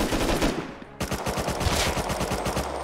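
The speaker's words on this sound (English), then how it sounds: "I'm getting shot at." Rapid automatic gunfire in the survival game Unturned, with dense bursts of close, loud shots running nearly the whole time and a brief break before a fresh, steady stream of fire.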